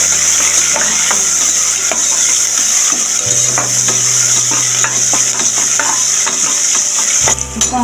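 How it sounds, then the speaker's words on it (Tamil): Spices and onions sizzle steadily in hot oil in a pan, with regular stirring scrapes and clinks of a utensil throughout and no talking. "நம்ம எண்ணெய் ஊற்றிக்கிறோம். எண்ணெய் காஞ்சிடுச்சு. நம்ம மசாலா பொருளெல்லாம் சேர்த்துக்கிறோம்."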